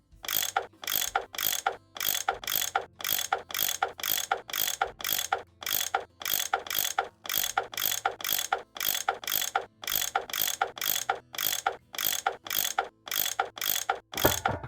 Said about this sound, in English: That tool I saw in the caboose, I bet that's what you use to unscrew these bolts.